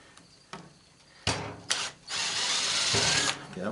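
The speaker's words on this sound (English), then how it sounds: "might be able to get in there with the drill" A power drill whirs in short bursts and then a longer steady run, backing a Phillips screw out of an automotive motor being scrapped for copper, loud and close.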